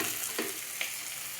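Salt, turmeric and ground cumin stirred in a frying pan, a low steady sizzle with a couple of brief scraping strokes from the spoon.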